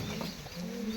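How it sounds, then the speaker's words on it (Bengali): Domestic pigeons of several breeds give a brief, low, throaty coo, soft and close with no other sound around it. "এবার আমি আপনাকে দেখাতে যাচ্ছি আরও অনেক নানা রকমের পায়রা।"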